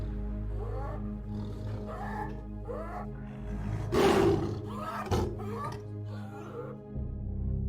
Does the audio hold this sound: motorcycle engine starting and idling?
no